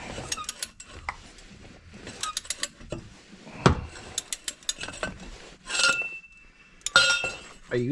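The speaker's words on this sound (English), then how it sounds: "I'm taking off the bolt for the clip for the ABS wire" A ratchet works a bolt off the ABS wire clip on a 2012–2015 Hyundai Elantra, with quick clicking bursts, metallic clinks and a few scraping knocks, close and irregular.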